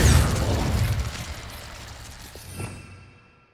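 Incendio fire spell cast in the video game Hogwarts Legacy: a loud, close burst that fades over a few seconds, with a smaller flare near the end.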